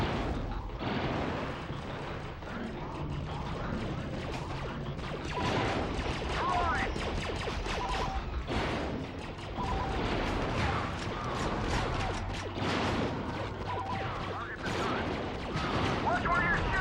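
Blaster gunfire in Star Wars Battlefront 2, a continuous battlefield clatter of rapid shots and crashes running throughout, with voices heard now and then over the fighting.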